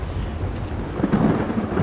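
Steady rain hisses over a low rolling rumble of thunder in a rainy Skyrim city, brief and moderately loud with no voices.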